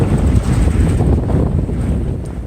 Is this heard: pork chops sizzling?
no